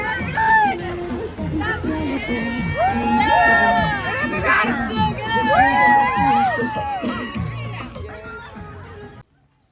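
A roadside crowd at the Cooper River Bridge Run in Charleston cheers, whoops and screams as runners pass. Many overlapping voices shout and chatter loudly and continuously for several seconds, then cut off abruptly.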